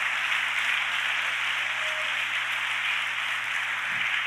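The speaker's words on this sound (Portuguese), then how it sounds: "Dê uma salva de aplauso para o Rei." A church congregation at an evangelical preaching service applauds in a steady, dense wash of clapping that holds an even level for a few seconds, with no voices rising above it.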